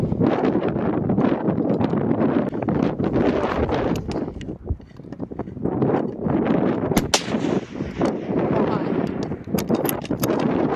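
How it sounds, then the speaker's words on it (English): A .308 hunting rifle fires one sharp crack during a red deer hunt in the windy Ruahine hills. Heavy wind buffets the microphone and roars around the shot. "he's got his rifle ready right and might give it a crack."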